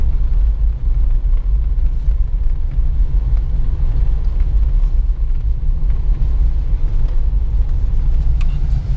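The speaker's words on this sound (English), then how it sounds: "This thing is fully warmed up, and you see it's sitting at a perfect 800 RPM idle." A 1988 Toyota 4Runner with the 3VZE V6, fully warmed up and idling steadily around 800 RPM, a loud, close, even low rumble with no revving.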